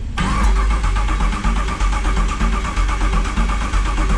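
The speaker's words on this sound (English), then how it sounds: "Hey, hit the starter. See if it shows RPM." A starter cranks the LS-swapped engine of an El Camino, starting abruptly with a loud, rhythmic chugging of evenly spaced beats that continues without catching, close and dominant throughout.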